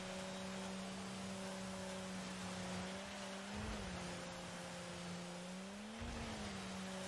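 A race car lapping a track in the video game DiRT 5, its engine droning steadily with shifting pitch as it accelerates and eases through corners, continuous and without talk.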